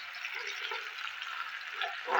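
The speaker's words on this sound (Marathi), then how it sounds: "ही लसणाची पात तेलात फोडणीला टाकायची" Finely chopped garlic greens tempering in hot oil, a steady soft sizzle that holds at an even level with a few crackling bursts, close by with no voices.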